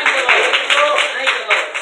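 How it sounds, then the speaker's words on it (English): Church congregation claps along in a quick, rhythmic beat, loud and close, with a voice and sustained tones sounding over the claps throughout. "Come on, give God a hand clap."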